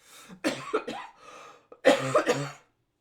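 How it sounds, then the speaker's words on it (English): Several rough coughs come in two close bursts, near and fairly loud, with brief gaps between them and silence at the end. "excuse me, I'm going to have to cough."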